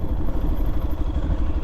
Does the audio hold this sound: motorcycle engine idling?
yes